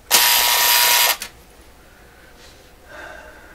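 Alarm of a vacuum tube clock radio going off: a loud, steady buzzing burst lasting about a second, then cutting out to quiet room hiss with a faint stir afterward.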